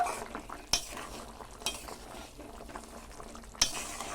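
Koi fish curry with cauliflower and chopped coriander leaves is stirred in a pot over a low simmer, with three sharp spoon knocks against the rim amid soft scraping and gentle bubbling, quiet and close.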